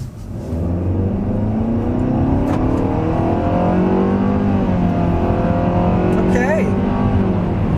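A 2020 Nissan Sentra compact sedan engine revs up hard as it accelerates, rising in pitch through the gears, loud and close, with a brief voice near the end.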